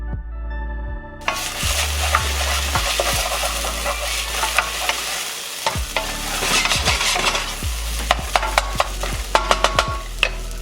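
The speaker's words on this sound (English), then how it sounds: "We're gonna add our oregano and chili to the pot." Oregano and deseeded Scotch bonnet chili hit a pot of Bolognese with a loud, steady sizzle, while a spoon scrapes and stirs in repeated strokes close by.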